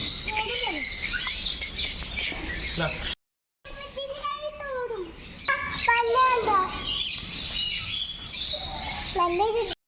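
Exotic birds in a bird park chirp, tweet and squawk in busy overlapping calls, close by, while children's voices chatter throughout and a brief silent gap falls partway through.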